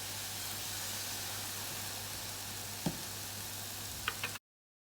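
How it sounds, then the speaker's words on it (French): Tomato purée with garlic simmering in a pan gives a steady, even bubbling hiss that runs alone, with a few faint clinks near the end before it cuts off. "Je laisse mijoter un peu"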